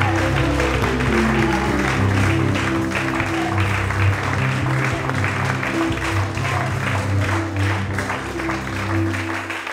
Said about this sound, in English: Can somebody give Jesus a round of applause?